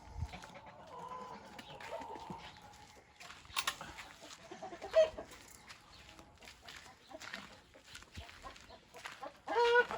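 Hens on a Turkish farm cluck softly through a quiet stretch, with a few sharper calls near the end, low and fairly close in an otherwise calm yard.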